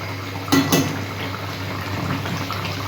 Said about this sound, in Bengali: ঢাকা দিচ্ছি, ফুটুক, মাছটা সেদ্ধ হোক।